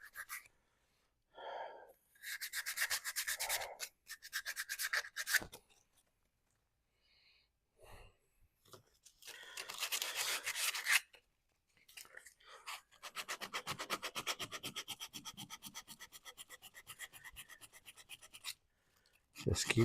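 A wooden tortilla press is sanded by hand with 100 grit sandpaper, giving close, bursty scratchy rasping strokes separated by pauses, with a long run of rapid back-and-forth rubbing near the end.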